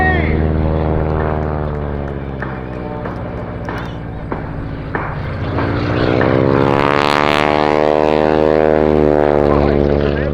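A propeller airplane engine roars loudly and steadily at an airshow, its pitch swelling and shifting as the plane maneuvers, with a voice talking over it throughout.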